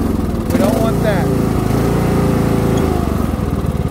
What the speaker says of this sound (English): Now, I've got the engine really low.